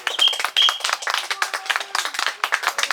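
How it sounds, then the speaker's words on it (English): An audience claps and applauds, a dense burst of many hands clapping at close range with a few high whistles, sustained for a few seconds. "Give him a big round of applause."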